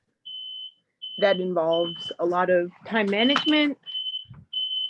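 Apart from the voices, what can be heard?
fire alarm beeping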